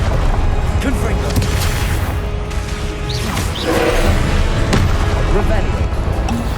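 Confringo spell blasts in Hogwarts Legacy land as dull booming impacts amid constant loud combat noise, with whooshes and crashes rising and falling over a heavy rumbling bed.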